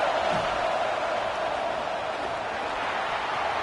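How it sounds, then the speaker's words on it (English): A home football crowd roaring in the stadium during an ASU versus Florida game, a loud, steady wash of crowd noise that fills the whole stretch. "Man, this crowd really affecting the football game."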